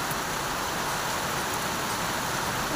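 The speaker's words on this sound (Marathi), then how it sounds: "आता 5 मिनिटात सुरू झाला मोठा पाऊस" Heavy rain falls in a dense, unbroken hiss, steady and even throughout, with no voices.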